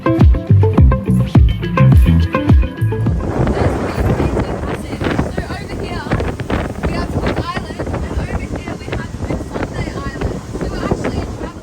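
A fast boat heading to Whitsunday Island, Queensland, with heavy wind buffeting the microphone and rushing water, loud and continuous after a brief musical opening.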